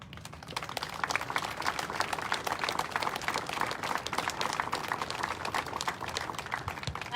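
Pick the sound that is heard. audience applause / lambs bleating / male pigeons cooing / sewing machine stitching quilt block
audience applause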